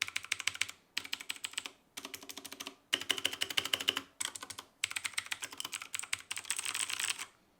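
Aotemu Blue clicky switches on a mechanical keyboard being typed on in a sound test, rapid crisp clacking keystrokes in bursts separated by short pauses, close and alone with no talking.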